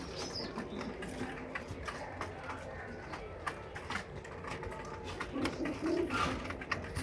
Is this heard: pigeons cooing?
yes